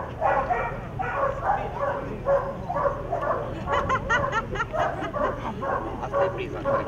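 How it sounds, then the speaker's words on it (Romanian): A customs dog at the Romanian border crossing at Giurgiu barks in a run of short, fairly close yelps and woofs, mixed with people talking and some laughter. "deci câinele face acest serviciu pentru vama română"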